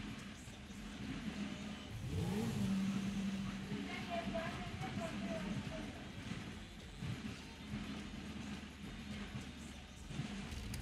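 Engine of an Activa scooter in GTA V, a steady motor drone that swells and rises in pitch early on, then settles, running under a speaking voice.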